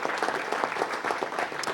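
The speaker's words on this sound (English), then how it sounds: "Give her a round of applause as well" People at a city council meeting give a short, brisk round of applause, even and continuous, heard at moderate distance with no voices over it.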